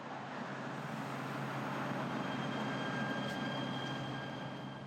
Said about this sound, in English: I'm just waiting on the train to come.